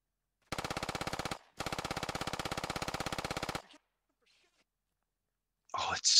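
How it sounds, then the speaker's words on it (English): Machine gun fire in the military shooter Squad rattles in two long, rapid, evenly spaced bursts, loud and near with a brief pause between them, then silence before a voice speaks. "It's Crispy shooting at Rasgris."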